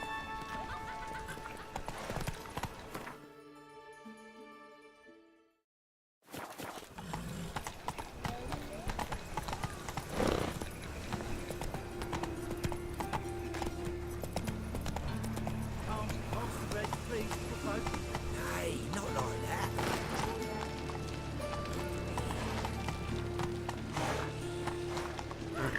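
Hoofbeats of a horse galloping in the video game The Witcher 3, a steady close clip-clop rhythm broken by a brief silent gap and a whinny, with a rider's voice speaking over the hooves.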